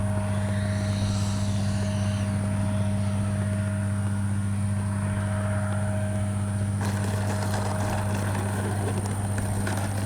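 A Freewing Avanti S V2 80mm RC jet comes in to land, its steady, continuous ducted-fan whine and hum holding loud throughout with no break.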